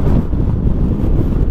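Strong wind pounds against the rider's microphone on a 2025 Kymco Xciting VS 400 maxi-scooter speeding along an expressway, a loud, continuous low-pitched roar with gusty pulses and no speech.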